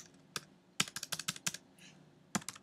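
Quick keystrokes on a computer keyboard as a file name is typed: a single tap, a rapid burst of about eight clicks, a pause, then a final pair of taps, close and fairly quiet with no voices.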